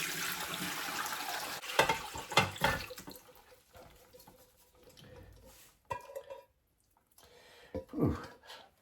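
Chicken soup stock poured through a colander into a pan, giving a broad splashing gush that pulses and fades, then a few brief later pours and clinks.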